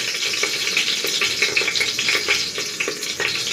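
Whole cumin seeds, dried chillies and a bay leaf fry in hot oil, making a steady close hiss and crackle with small irregular pops throughout and no talking.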